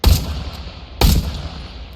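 Two loud gunshots from Into The Radius 2, a VR shooter game, fire about one second apart, each a sharp close blast with a short decaying tail.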